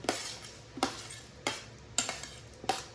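A spoon stirs fried peanuts and chilies into a spiced poha mixture, giving five evenly spaced scraping strokes, fairly quiet and close, with no talking.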